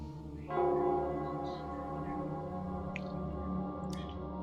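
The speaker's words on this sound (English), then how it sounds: "It's the Nell Squares bell." A bell tolls in Nell Square within the Wuthering Waves game, a sustained resonant ring that swells in about half a second in and lingers under a soft musical bed, with faint higher chimes scattered through.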